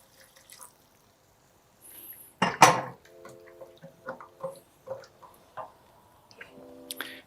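Vegetable broth sauce poured into a pan while making vegetarian yakisoba stir-fry noodles: a short splashing pour, then a run of liquid drips and squishy bubbling, close and fairly quiet.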